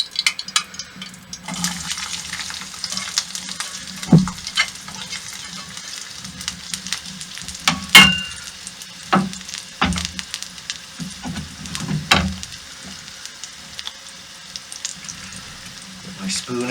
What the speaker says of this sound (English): Okay, so I'm just gonna saute those a bit.